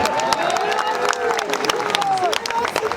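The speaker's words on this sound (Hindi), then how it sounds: "अब देखो महिलाएं ज्यादा तालियां बजा रही हैं पुरुषों से ज्यादा।" Women in the audience at a political rally clapping, a dense patter of applause mixed with crowd noise and a loud voice talking over it.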